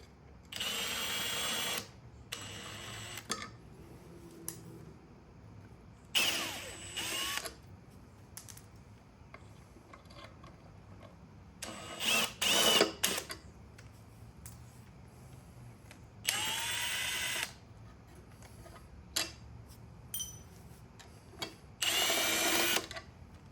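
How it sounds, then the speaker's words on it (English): A power tool spins out the engine timing cover bolts during an LS1 swap into a Nissan S13: short whirring drill bursts of a second or two each, repeated about seven times with quiet pauses between, close and loud. "Now that we've loosened up all the timing cover bolts, let's just remove those."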